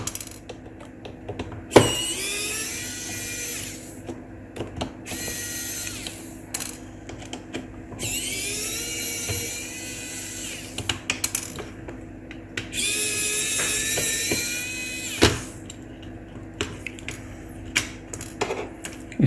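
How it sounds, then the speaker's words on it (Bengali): Small screws being unscrewed from a mobile phone during a display light repair, heard as close, faint clicking and ratcheting screwdriver turns with occasional sharper knocks from handling, over a quiet background hiss. "স্ক্রু খুলে গেছে।"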